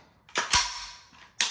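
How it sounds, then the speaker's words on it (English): The magazine drops free from a Recover Tactical P-IX pistol: a few close mechanical clicks followed by a hard clack, short and crisp, with no voices. "So charge it, the mag drops free."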